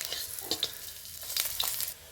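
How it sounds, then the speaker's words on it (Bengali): Masoor dal fritters frying in oil in a pan, a soft steady sizzle with light stirring scrapes close by, fairly quiet and with no talking. "একটা পিস ভাজা হয়ে গেছে, বিপরীত দিকটাকেও আস্তে আস্তে এরকম উল্টিয়ে ভেজে নিতে হবে।"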